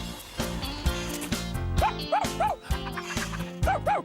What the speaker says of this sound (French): Votre chien m'a l'air bien excité ce matin